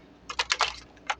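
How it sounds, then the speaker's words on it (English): A deck of tarot cards being shuffled by hand: a quick run of crisp, close flicking clicks, then a pause and a couple of final snaps, with no talking. "All the cards have been pre-shuffled, but I'm going to do a couple more shuffles"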